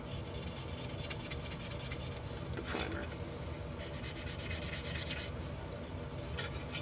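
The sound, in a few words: sanding a Tamiya Nissan Silvia model car body with a sanding sponge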